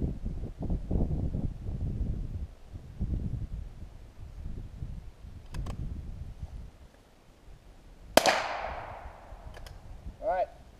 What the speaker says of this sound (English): Alright, what we got here, the 22 long rifle.